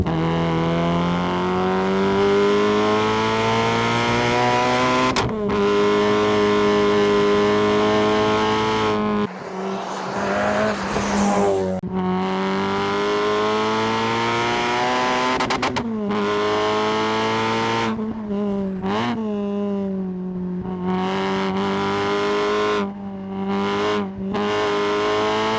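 Supercharged Renault Clio RS driven hard on mountain roads, its engine loud and close as it revs up through the gears. The pitch climbs and then drops at each shift, with sudden breaks as the throttle lifts and quick blips in between.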